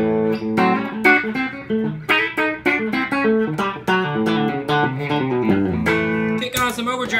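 An electric guitar played through a seafoam green Bullet coil cable, a clean, close passage of quick picked notes and chords in a steady phrase.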